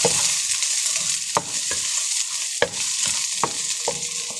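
Onion and garlic sautéing in a pan, a loud, steady close sizzle broken by a few sharp utensil clinks against the metal as they are stirred.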